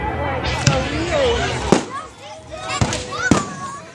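Fireworks bursting at an outdoor public show in Elmer Thomas Park, with four sharp, loud bangs spaced a second or so apart over a steady crowd murmur and people talking nearby.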